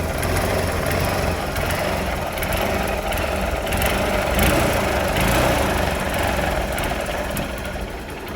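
A 2009 motorcycle engine runs loud and close, holding a steady rough drone that swells slightly as the throttle is revved, with no voices over it.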